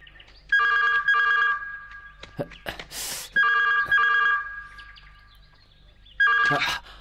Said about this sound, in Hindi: अरे देखो फोन बज रहा है।